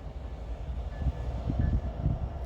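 Snow shuttle train rolling slowly past in Fremont, Nebraska, a steady low rumble of wheels and cars with wind noise over the microphone, continuous and moderately near.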